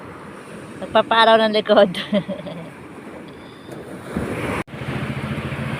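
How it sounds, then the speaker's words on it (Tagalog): Rough sea surf at a beach washes and hisses in the background, mixed with gusty wind buffeting the microphone, while a person speaks briefly over it. "maalon ngayon"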